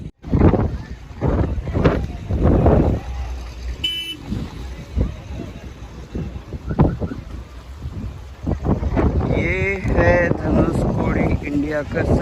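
Strong wind sweeping the Dhanushkodi seashore on India's southern tip, roaring steadily into the microphone with loud gusts throughout, while someone talks over it.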